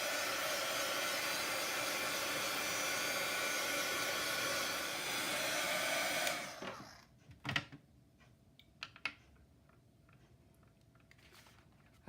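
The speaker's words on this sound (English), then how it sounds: "And then the heat tool, and I will edit this portion out." A heat tool blows steadily while drying watercolor paint on a woodland junk journal page, a loud continuous whoosh for about six seconds that cuts off abruptly, followed by quiet handling clicks and taps.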